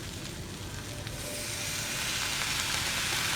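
Soy sauce poured into a hot pan with mixed herbs, setting off a bright, close sizzle that swells after about a second and keeps hissing steadily, with no talking.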